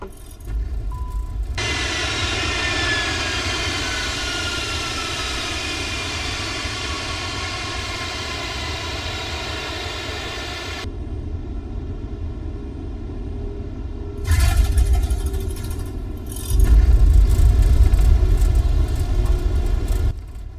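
Airliner engines in Microsoft Flight Simulator during a difficult landing approach, a steady loud jet roar and rumble with cockpit tones that cuts out briefly, then surges louder near the end as thrust rises.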